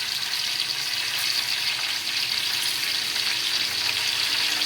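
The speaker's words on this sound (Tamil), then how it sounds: "எண்ணெய் கொஞ்சம் ஊற்றிக்கலாம். கடுகு 2 போட்டுக்கலாம். பட்டை கிராம்பு போட்டுக்கலாம்." Mustard seeds, cinnamon and cloves sizzle in hot oil for a pepper chicken dish, giving a steady bright hiss that holds evenly throughout, close and fairly loud, with no voices.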